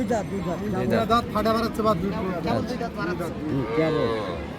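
A Sahiwal cow moos several times at a busy rural cattle market in Dinajpur, its low calls rising over steady nearby chatter and crowd babble.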